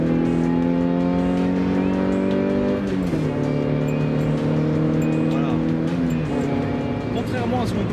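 A Toyota AE86 driving with a steady engine drone whose pitch drops sharply at each gear change, two clear upshifts heard, with a person speaking over the engine noise from inside the car.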